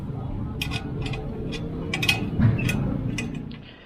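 A screw-type clamp is cranked tight around the exhaust pipe of a Montero Sport while fitting a burnt-tip muffler tip, giving a series of small metallic ticks and clicks. A steady low background hum runs underneath.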